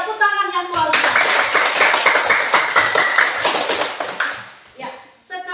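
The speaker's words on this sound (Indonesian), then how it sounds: "Tepuk tangan yang luar biasa." Bursts of energetic clapping from a group of schoolchildren in a classroom, steady and loud for several seconds, with a teacher's voice speaking just before and after the applause.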